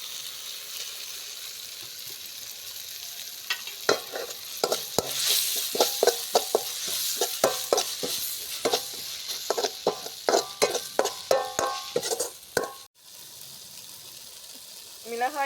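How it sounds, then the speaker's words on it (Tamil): Chopped tomatoes sautéing in a pan for rotti kuzhambu, a soft sizzle under frequent scraping stirs and clinks of a spoon against the pan, with brief talk over parts. "அடுத்து தக்காளி கட் பண்ணி வச்சுட்டு அதை நல்லா வதங்கிடுச்சு."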